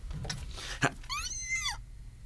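A voice imitates a cat, giving a drawn-out, wavering meow after a couple of short rustling noises, close and fairly loud.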